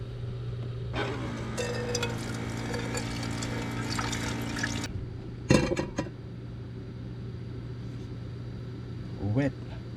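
Water runs steadily from a tap while a pot is rinsed inside a van, a few seconds of continuous pouring that stops abruptly, followed by brief clatters of the metal pot. Background noise stays low.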